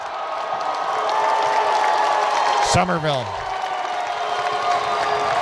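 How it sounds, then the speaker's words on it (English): A crowd at a 2015 NYS championship girls' basketball game keeps up steady cheering and applause, loud and continuous, while an announcer talks over it and a sneaker squeak cuts through briefly. "gets a cheer of applause on that out-of-bounds play from the Cats"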